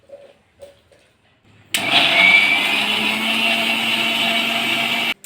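After a couple of faint knocks, a loud blender grinding tomato and onion into gravy kicks on and whirs steadily at high speed for several seconds, then cuts off abruptly.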